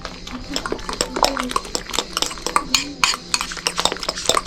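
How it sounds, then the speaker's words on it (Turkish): A spoon scrapes and clinks against a bowl while stirring a flour and salt dough mixture, in irregular sharp knocks and rubs, with people talking over it at times. "Biraz un. Tuz. Harcımızı karıştıralım."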